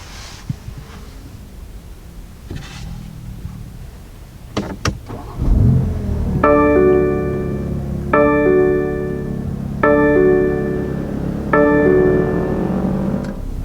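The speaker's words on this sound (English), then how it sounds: "as you'd expect from any M vehicle, you do have a great sound at startup" Startup of a 2020 BMW X3 M, a 500 hp M SUV: a few faint clicks, then the starter catches and the engine flares loudly into a revving roar before settling into a steady idle, heard alone.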